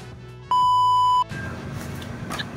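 A phone's electronic ring heard as one steady, loud tone lasting under a second, sounding over a quiet room at a fire brigade duty post.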